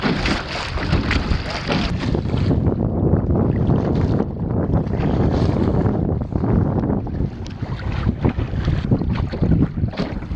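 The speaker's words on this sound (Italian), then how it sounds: "Il vento per fortuna c'è" Strong wind buffets the microphone aboard a small sailing dinghy beating upwind off Livorno, a continuous loud rush with gusty swells and water noise and no voices.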